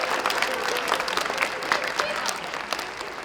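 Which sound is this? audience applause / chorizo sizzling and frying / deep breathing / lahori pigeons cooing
audience applause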